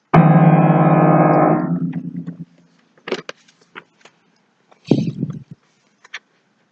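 A low piano cluster rings out together and slowly fades, followed by a few soft clicks and a brief second low note.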